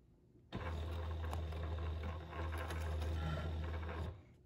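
A sewing machine runs one long continuous stitch on a courier pouch, a close, even mechanical whir with a low drone that holds for about three and a half seconds and then stops abruptly.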